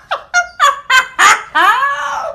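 A pet bird calls out close and loud in a rapid series of five harsh, rising squawks, ending in a longer drawn-out screech, with no talk over it.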